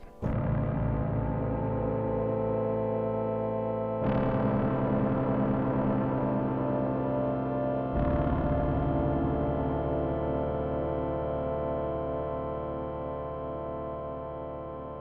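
Sustained polyphonic synthesizer chords from a Digitakt with RK-002, struck three times, each ringing out with heavy delay, the long echoing repeats blurring together and slowly fading.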